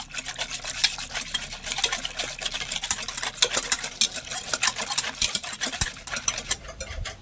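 Milk powder is stirred into milk for rasmalai, a spoon scraping and swishing in a rapid, irregular rhythm, close and fairly loud, with no voices.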